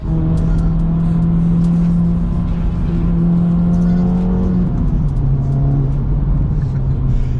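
An Acura Integra Type S sports car engine hums steadily up close while driving on the road, its pitch rising then dropping as it shifts, with a deep rumbling drone throughout.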